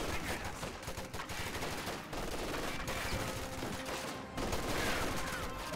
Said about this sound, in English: Another rifle grenade firing.